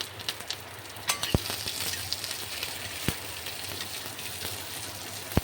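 Chopped medium onion frying in a pan with a little salt, a quiet continuous sizzle with a few sharp clicks and taps of the spatula or utensils.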